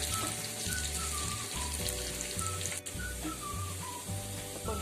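Onion and red chillies fry in hot oil until browning, giving a steady, even sizzle and crackle with faint shifting tones, close and continuous, with no talking.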